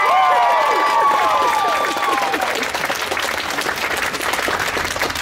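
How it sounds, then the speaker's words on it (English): Loud audience applause with cheering and whistles at an Anime Midwest 2014 convention comedy panel, starting strong and settling into steady, sustained clapping from a large crowd. "Applaud!"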